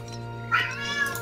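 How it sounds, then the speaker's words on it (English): A pet cat gives a single clear meow close by, rising and then trailing off, over a faint steady background hum. "Oh my god. His cat."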